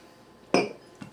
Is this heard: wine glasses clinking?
yes